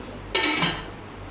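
A metal cooking pot lid with a metal handle, from a KIAM cookware set, gives a single bright clatter as it is lifted and set down, then rings out briefly and fades, close and alone.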